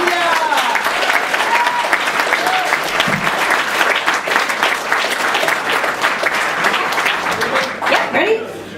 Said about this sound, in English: So let's have a big round of applause,